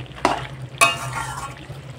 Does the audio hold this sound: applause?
no